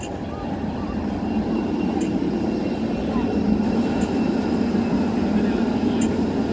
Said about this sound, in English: There is a tram in the road itself.